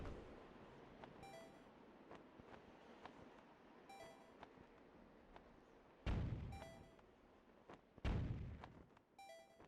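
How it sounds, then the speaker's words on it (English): Cannon fire from The Wind Waker video game, with two deep booming blasts that each ring out with a metallic tail, over a faint wind-like bed and lighter clanks and chimes in between. "Shut up, cannon."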